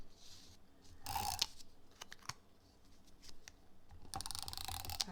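Cardstock being taped for a handmade gift card purse gives scattered crinkles and sharp tearing and sticking sounds in irregular bursts, close and fairly quiet, with no talk.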